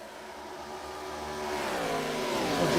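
An ARCA Series stock car engine in the iRacing simulator drones and slowly climbs in pitch as the car accelerates, a steady, fairly loud whine with no talking.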